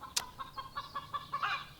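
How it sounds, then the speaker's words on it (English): A chicken clucks in a quick run of short, evenly spaced notes, about eight clucks in under two seconds, fairly close and moderately loud, with a brief sharp noise at the start. "chicken is going off"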